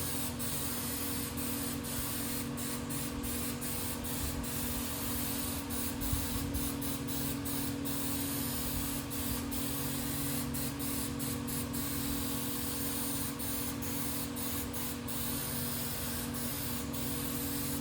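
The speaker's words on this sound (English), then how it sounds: "Then you're gonna want to spray both sides. You want to spray the vinyl as well." A continuous hiss of 3M spray adhesive from an aerosol can coating vinyl for a car interior runs throughout, steady and close, with faint intermittent clicks over a low background hum.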